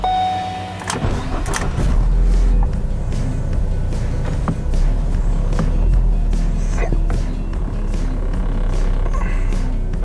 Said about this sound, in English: start the vehicle just long enough for it to roll off the ramps